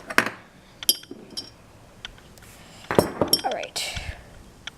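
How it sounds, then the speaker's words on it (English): A metal spoon clinks against dishes as it is pulled out in a home kitchen while pizza sauce is being prepared, with several sharp, bright clinks and clatter scattered across a few seconds and a voice talking between them. "let's get a spoon out"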